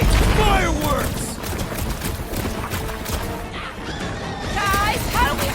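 Rockets and fireworks burst in a chaotic Guardians of the Galaxy video game battle against a large creature, a dense layer of crashing blasts and whooshes running throughout, mixed with music and effects.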